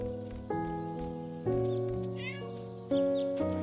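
Cats in the video game I and Me meowing once or twice, a brief high mewing over a plucked, tonal game music track with steps every second or so, no talking.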